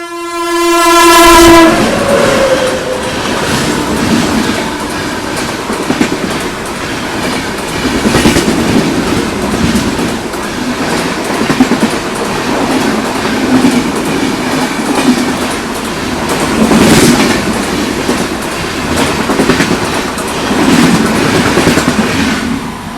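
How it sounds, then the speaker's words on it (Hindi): The Shramjeevi Express overtakes at high speed, opening with a loud, brief horn blast, then a sustained roaring rush and rattling of rail cars passing close by for the rest of the stretch. "यहाँ पे हमारा श्रमजीवी एक्सप्रेस ओवरटेक करेगी। काफ़ी हाई स्पीड में ओवरटेक होने वाला है।"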